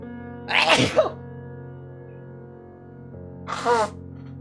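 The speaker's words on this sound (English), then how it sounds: "Once I've sneezed." Two sneezes: a sharp, loud one early, then a second, slightly softer sneeze a few seconds later, over a faint steady hum.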